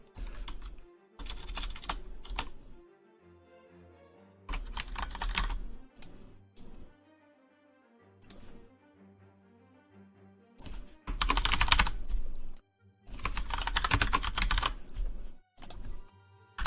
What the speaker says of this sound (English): Hope the chat's enjoying the keyboard noises.